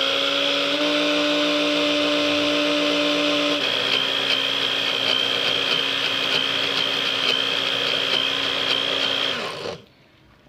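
A mixer grinder runs steadily, grinding peanuts in its steel jar with a loud continuous whir and high whine, then cuts off abruptly near the end, leaving near silence.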